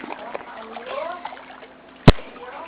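A child swims in the sea, with a single sharp splash of water striking near the end, preceded by adults talking and calling over soft background noise.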